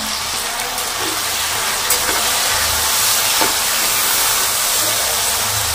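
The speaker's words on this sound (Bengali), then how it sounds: "একটু নুন দিলাম, সামান্য একটু হলুদ দেবো, লাল লাল করে ভেজে তুলি।" Banana flower frying in oil with salt and turmeric gives a steady, close, even hiss of sizzling with no pauses and no talking.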